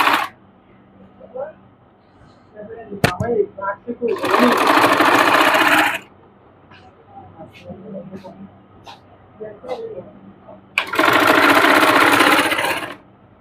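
Sewing machine stitching piping onto a salwar trouser cuff, two loud bursts of rapid stitching separated by quieter handling, clicks and a bit of talk.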